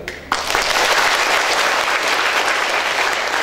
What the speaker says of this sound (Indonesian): Tepuk tangan buat mereka yang hadir.